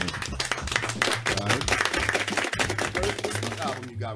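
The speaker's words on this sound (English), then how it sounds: "That gets a round of applause. Real applause for that one." Clapping during a hip-hop interview, sharp hand claps landing close and loud over a throbbing low beat, the hits coming in a busy, uneven stream with no voices over them.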